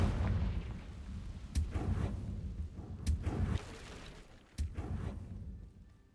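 A fiery Confringo blasting curse explodes in Hogwarts Legacy, three sharp bursts about 1.5 seconds apart, each a sudden crack that settles into a rumbling, crackling roar over continuous game ambience.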